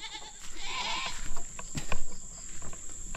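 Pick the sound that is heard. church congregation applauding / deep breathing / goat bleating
goat bleating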